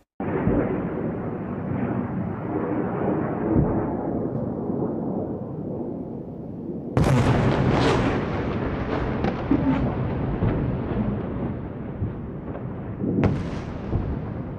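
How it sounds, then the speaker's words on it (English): Missile strike explosions in Israel, with a long, heavy rumbling roar, then a sharp louder blast around midway followed by crackling debris and another burst near the end, all distant and boomy. "Israel says there have been missile attacks against Jerusalem and Haifa overnight, and also in Tel Aviv."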